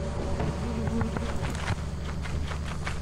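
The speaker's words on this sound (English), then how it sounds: "Watch out for the bees" Bees in the horror co-op game Lethal Company make a continuous droning buzz over a low rumble, with light rapid footsteps pattering through it.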